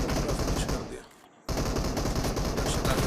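Rapid automatic gunfire in a shooter video game, a dense loud volley that drops away briefly near the middle before bursting back at full intensity and continuing without pause.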